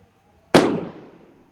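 A single firecracker bursts during festive celebrations, a sharp loud crack that decays over about a second in an otherwise quiet room.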